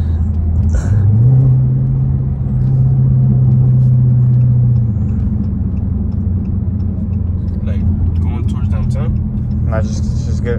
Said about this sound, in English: It's an old car.